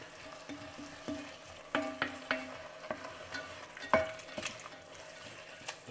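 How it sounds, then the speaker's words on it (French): Lentil soup ingredients stirred in a cooking pot, a spoon scraping and knocking in irregular strokes with faint sizzling underneath, moderately quiet and close, no voices. "D'abord bien mélanger."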